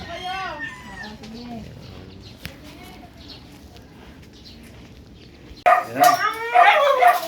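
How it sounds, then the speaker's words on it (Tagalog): A dog barks and yips in short bursts, louder toward the end, with people talking over it. "Dito sa aso ni Skin"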